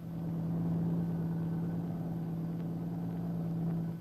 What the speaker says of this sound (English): tanks and troops move on Pardo.